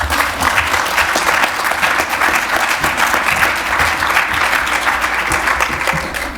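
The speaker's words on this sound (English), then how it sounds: "That was a very generous applause for just taking over for David" Sustained audience applause fills a resort conference room, a dense, even wash of many hands clapping at steady volume throughout with no break.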